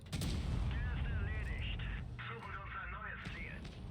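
A tank destroyer fires its gun in World of Tanks Blitz, with heavy booming blasts and rumbling battle noise filling the mix while someone talks over the game sound.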